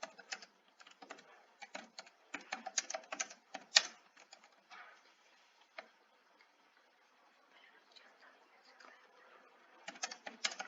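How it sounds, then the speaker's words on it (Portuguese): Someone types on a computer keyboard in quick bursts of clicking keys, pausing briefly, then resuming near the end; the tapping is close and fairly quiet. "deixa eu digitar rapidinho"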